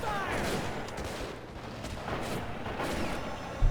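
Continuous gunfire and artillery rumble from the Men of War: Assault Squad 2 video game, an AA gun and a Sherman tank in combat, with dense overlapping shots and a sharper bang near the end.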